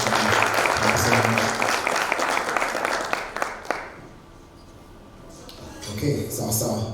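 At a youth situational analysis report launch, an audience applauds loudly and continuously, then fades. Voices are mixed in, and a brief second swell rises near the end.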